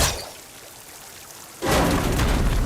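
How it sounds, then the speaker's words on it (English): Water suddenly gushes from a vent in Horizon Forbidden West, a loud rushing splash that bursts in after a quiet stretch and keeps pouring steadily. "Water's coming from that vent."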